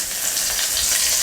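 Mustard seeds, urad dal and curry leaves sizzle in hot oil for a sambar tempering, a steady close crackling hiss that fills the whole short moment without any voices.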